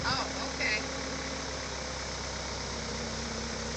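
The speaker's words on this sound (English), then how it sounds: "This is her first time driving the skid steer here." A skid steer loader's engine runs steadily with its throttle pushed forward, giving a continuous low mechanical drone with a rumbling hum that stays constant and close throughout.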